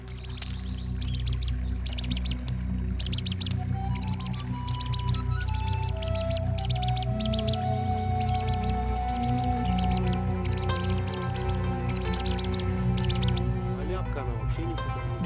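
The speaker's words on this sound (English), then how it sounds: "those birds that migrate here, out of those we've seen today, are black thrush from Siberia and the waxwing" Black thrushes and waxwings calling in a Kazakhstan wildlife sanctuary, repeated clusters of high chirps in regular bursts, set under steady music or drone with speech present.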